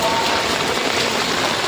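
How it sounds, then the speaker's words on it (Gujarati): Heavy rain pours onto a flooded rooftop terrace in Surat, a loud, dense, continuous hiss and patter of water with a voice faintly under it. "બહુ વરસાદ આવે છે ભાઈ"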